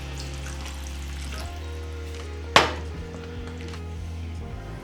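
Water pours into a cooking pot for Ethiopian beef firfir. A steady running-water hiss fills the whole stretch at close range, with one sharp clank partway through.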